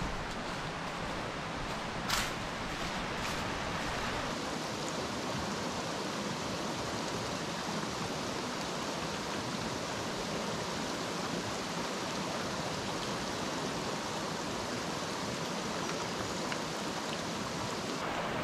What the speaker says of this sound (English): it looks like we're about to cross the creek, so I will do that now